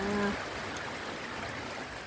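Rain falls in a soft, steady outdoor hiss, faint and continuous, with a short tonal sound at the very start.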